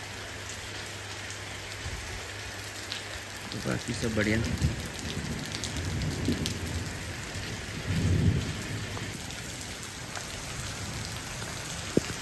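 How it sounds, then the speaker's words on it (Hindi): Heavy monsoon rain pours down steadily on a roadside stop during a Delhi to Bageshwar road trip, a dense close hiss with low rumbles swelling in places, while someone speaks briefly over it. "और बढ़िया बारिश हो रही है"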